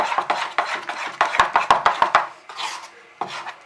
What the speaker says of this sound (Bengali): ডাল আর চালের মিশ্রণটা এবারে খুব ভালো করে ফেটিয়ে নিয়ে